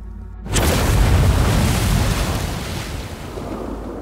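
A great explosion in a sci-fi horror story, where a water-filled container bursts, hits after a brief quiet as one loud, deep boom whose broad rumble holds and slowly fades over several seconds.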